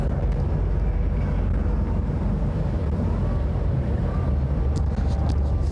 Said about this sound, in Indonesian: Mungkin sedikit bising di bagian belakang kapal karena ada mesin.